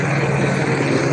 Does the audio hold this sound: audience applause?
no